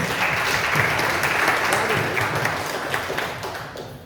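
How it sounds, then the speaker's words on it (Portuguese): A church congregation at a Sunday service claps together in a thick, continuous burst of applause close by, holding steady before tapering off slightly at the end. "e as palmas louvem ao Senhor"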